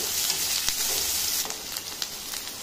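Onion sautés in a pan, giving a steady close sizzle broken by a few sharp crackles and light stirring scrapes, with no talking.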